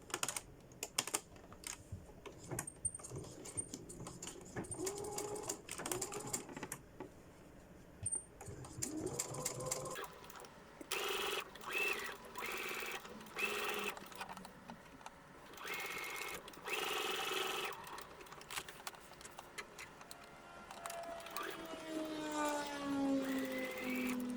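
A sewing machine stitching bias tape onto fabric, running in quick mechanical bursts separated by short pauses, close and clear, with faint bird cooing in the background.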